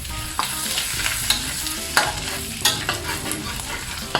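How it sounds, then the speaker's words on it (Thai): Aromatics stir-fry over medium heat in a pan, a steady sizzle broken by regular scraping strokes of a spatula every half second or so, close and clear with no voices. "เราผัดได้หอมๆครึ่งหนึ่ง"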